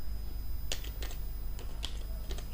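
Code being typed on a computer keyboard, several quick clusters of light key clicks over a constant low hum, close and fairly quiet.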